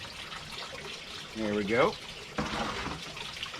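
Water runs and splashes through a gold recovery sluice at close range, a steady rushing flow with a brief gurgling surge, while someone speaks briefly over it.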